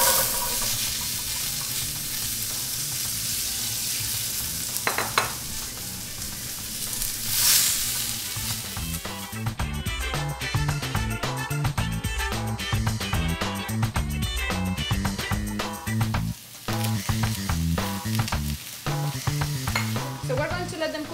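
Four apples cook in about half a stick of butter in a deep pan over medium heat, giving a steady sizzle broken by scraping stirs, with a louder, busier stretch partway through.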